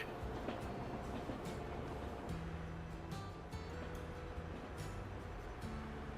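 Train rolling across a tall bridge in the Transport Fever 2 video game on a canyon map, a steady low rumble with faint rail clatter and a constant ambient wash underneath, no talking.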